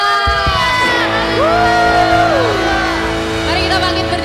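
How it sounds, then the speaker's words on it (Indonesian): A church congregation at a Pentecostal online worship service cheering, whooping and shouting praise to God, a loud sustained crowd roar with high sliding yells over steady music. "berikan sorak-sorai buat Allah kita"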